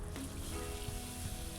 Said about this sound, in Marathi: कालवणाची फोडणी करून घेऊया